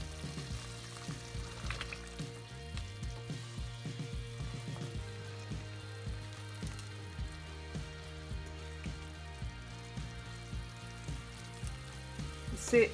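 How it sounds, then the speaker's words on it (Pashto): Greens go into a pot of boiling water for an Afghan bean and noodle soup (aash), giving a close, steady bubbling sizzle with small splashes and clinks throughout and no talking. "اوبه وایشېدې نو اوس به پکې دا سبزیانې ور واچوم"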